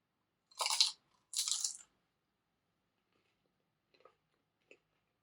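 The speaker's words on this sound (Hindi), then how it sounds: "अभी आपने सुनी आवाज मैं खा रही हूँ तो कितनी कुरकुरी आवाज आ रही है।" Crisp gujiya made from semolina and wheat flour dough is bitten into, giving two loud, close crunches followed by a few faint chewing clicks in a quiet room.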